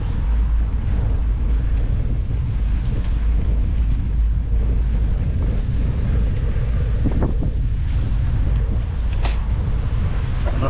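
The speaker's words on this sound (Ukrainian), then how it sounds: "Нам походу вітер в спину все время тут" Constant buffeting wind roaring across the microphone while cycling with a tailwind, loud and steady for the whole stretch, with a low rumble underneath and no voices.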